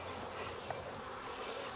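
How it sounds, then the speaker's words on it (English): Dense, steady buzz of many honey bees swarming around an open backyard apiary hive, holding at an even level throughout with a slightly louder swell near the end; no talking. "Wow, lots of bees in the stinky"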